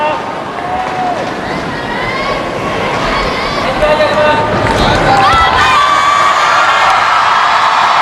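A gymnastics arena crowd at the 29th SEA Games cheers loudly for Farah Ann Abdul Hadi, with sustained shouts and whoops filling the hall while a commentator talks over the roar.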